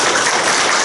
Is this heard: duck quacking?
no